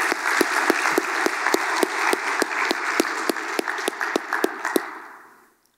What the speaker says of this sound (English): You can clap now, yeah.